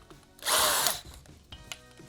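A power drill fitted with a circle cutter attachment whirs in one loud, steady burst of about half a second, followed by faint mechanical clicks and handling noises.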